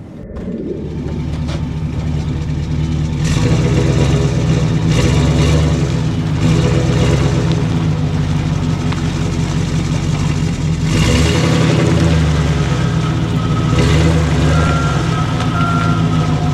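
A Chevy Express 2500 van with a 6.0 engine rolls into a repair shop. Its engine hums and revs loudly and close, with beeping and workshop noise around it and surges as it moves.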